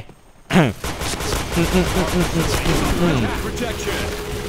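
Rapid bursts of gunfire in the game Point Blank crackle steadily throughout, dense and loud, with a voice talking under the shooting.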